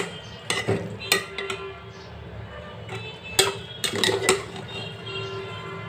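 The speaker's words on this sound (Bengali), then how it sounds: "চিকেন মশলা একটু লবণ আর ডিম দিয়ে দিচ্ছি নাড়িয়ে চাড়িয়ে উঠিয়ে নেব" Eggs with chicken masala and salt being stirred in a pan: scattered sharp clinks and taps of a utensil against metal over a low background hum, close and irregular.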